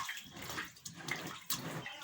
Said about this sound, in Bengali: জল তুলেই যাচ্ছে